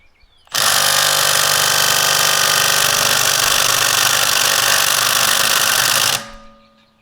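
A Milwaukee M12 3/8 stubby impact gun hammers continuously for about six seconds against a Mini Cooper wheel nut torqued to 120 foot-pounds, loud and close, starting abruptly and then stopping, with a brief whir as it spins down.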